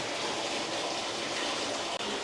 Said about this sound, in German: So, und da läuft das Wasser rein